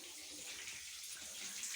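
Tap water pours steadily from a faucet into a vessel, a soft continuous hissing splash heard close by with nothing else over it.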